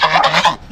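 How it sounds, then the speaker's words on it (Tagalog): A goose gives a quick burst of nasal honks, loud and close, two or three clipped calls in rapid succession. "Gansa."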